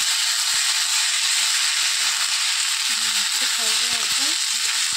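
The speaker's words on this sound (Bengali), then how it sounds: "এই যে সবজিটা নিয়েছি, এটা এখন ভাজতে দিয়ে দেবো।" Vegetables frying in a kadai for sabudana pulao, a loud, steady hiss of sizzling oil close up, with a few faint clinks and a short stretch of quiet voice beneath it toward the end.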